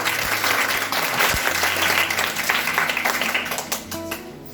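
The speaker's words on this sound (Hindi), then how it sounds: "तो एक बार सब के लिए जोरदार ताली हो जाए।" A crowd at a children's cabinet election event in 2022 breaks into loud, sustained applause, dense clapping continuing steadily for several seconds before easing slightly at the end.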